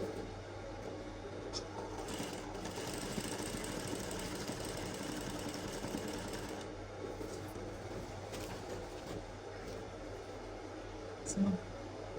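A sewing machine stitches strips of Aso Oke fabric together, giving a steady mechanical whir and rapid needle patter that runs almost unbroken for the whole stretch, with a brief bump near the end.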